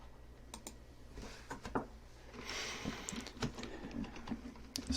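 Computer keyboard keys clatter in quick irregular bursts as commands are typed into a Raspberry Pi Linux terminal, close and fairly quiet, with no voices.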